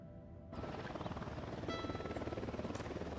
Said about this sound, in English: The helicopter.